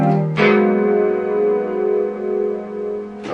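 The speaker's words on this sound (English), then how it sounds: "Now another variation of that, it would be from the 6 to the 2 to the 5" Gospel bass line walking from the 6 to the 2 to the 5, played as a quick pickup note that shifts into a long, sustained, buzzy bass tone ringing steadily to the end.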